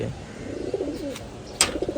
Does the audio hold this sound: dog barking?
no